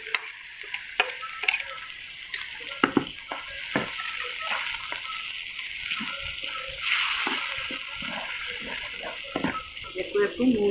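Mustard paste sautéing in a pan, a continuous sizzle with intermittent scraping and stirring of a spatula, close up, with talk over parts of it.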